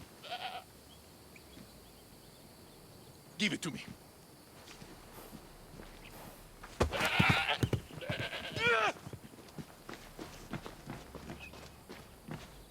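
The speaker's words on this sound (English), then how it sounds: "And there's the goat" A goat bleats several times in the video game Assassin's Creed Odyssey, with wavering cries among footsteps, clatter and game sounds, while a person speaks briefly.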